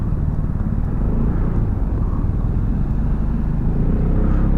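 SYM ADX 125 scooter from 2023 being ridden, a steady low engine hum and road rumble with wind noise, continuous and fairly loud from the rider's position, no talking.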